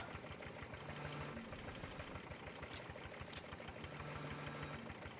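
A tractor engine in a farming game works under a heavy lift on Drumard Farm, a steady, rumbling, knocking drone that stays constant throughout with no talk.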